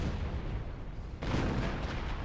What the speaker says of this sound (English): on-map artillery barrage